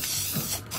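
Spray paint from a can hisses onto a table in a steady, close, soft stream that briefly dips near the end, with no talking.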